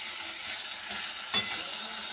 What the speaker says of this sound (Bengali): আলুটা কষানো হয়ে গেছে, দেখো তেল ছেড়ে দিয়েছে